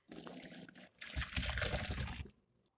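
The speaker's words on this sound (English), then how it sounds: "I'm gonna go ahead and take this pot over to the sink and drain these potatoes" Water and boiled potatoes pour from a pot into a kitchen sink, a close, loud gushing splash that swells after a brief start and then trails off.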